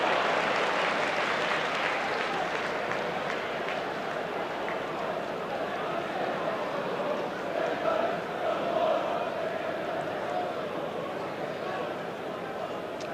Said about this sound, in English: the cheer that went up around Elland Roads